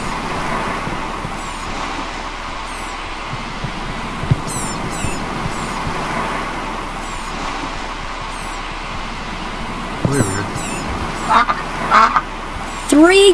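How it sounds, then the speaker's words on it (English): Ducks quack in the video game I Spy Treasure Hunt, a few short calls bunched near the end over a steady, busy game background, with scattered lighter sound effects earlier. "three ducks. Quack."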